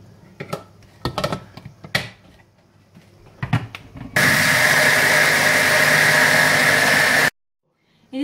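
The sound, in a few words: mixer grinder blending tomatoes and onions with water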